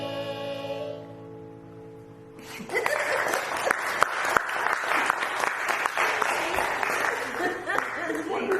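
Audience applause on a cruise-ship Sunday at Sea show breaks out after a quiet sung or musical opening, then continues as dense, bright clapping mixed with some laughter and scattered voices.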